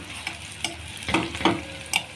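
Onions caramelizing with a spoonful of sugar sizzle steadily in a pan for a fish tray dish, with a few scraping stirs and clinks close by and no speech.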